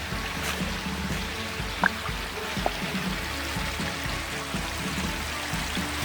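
A mountain stream running over its rocky bed on a wooded hiking trail, a steady close wash of rushing, gurgling water with a couple of small splashes and footsteps on stones.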